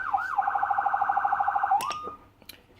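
Whelen 295SSA1 siren unit cycles a fast pulsing yelp-style tone, a rapid warbling wail repeating about twenty times, then sweeps off and cuts out, followed by faint clicks.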